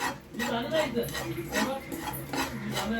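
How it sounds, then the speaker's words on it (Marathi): Poppy seeds dry roasting in a pan over a low flame, with steady scraping and stirring against the metal and soft rustling of the seeds throughout, close and moderately loud, with a voice talking over it. "आपण आता 1 चमचा खसखस भाजून घेऊ। गॅस बारीक करायचा, छानपैकी असं भाजून घ्यायचं।"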